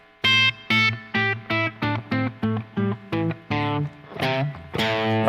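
Electric guitar plays a quick run of A pentatonic notes, about a dozen plucked in steady rhythm, while the thumb holds a low root note droning underneath; the tone is slightly driven, and the final notes ring out longer.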